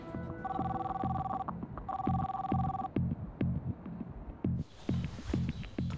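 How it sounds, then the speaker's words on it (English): A telephone rings unanswered in two clear double-tone bursts, close and fairly loud, over a low throbbing pulse that continues after the ringing stops. "I called him, nobody picked up the phone."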